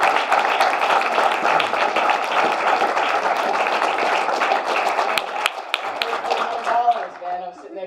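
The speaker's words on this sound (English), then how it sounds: "huge round of applause for Mike" An audience at a business presentation applauds for Mike, a busy run of clapping that thins out toward the end as voices begin to come through.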